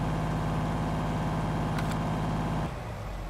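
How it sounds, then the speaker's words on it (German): A tractor or farm vehicle engine idles in Farming Simulator 19, a steady low hum with a faint click partway through, then the drone drops and weakens as the engine shuts off near the end. "Ah, dann machen wir mal den Motor aus hier."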